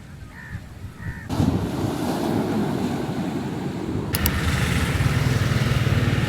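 Ocean waves at a private beach roll in as a steady broadband wash with wind buffeting the microphone; a brief faint tone sounds at the start before the surf rises, continuous and fairly loud, with no talk.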